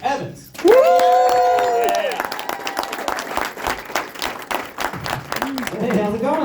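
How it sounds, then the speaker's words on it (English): A comedy club audience in St. Louis bursts into loud applause with whoops and cheers for a stand-up comedian, the clapping fading as a voice starts talking over it. "Guys, nice round of applause for Brice Evans."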